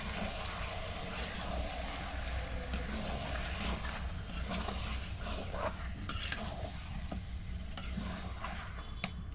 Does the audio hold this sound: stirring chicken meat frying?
yes